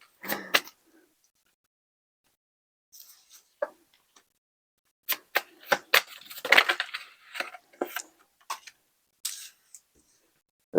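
A deck of tarot cards being shuffled up close, with bursts of papery riffling and slapping broken by quiet gaps, then a longer flurry of shuffling in the middle and no talking.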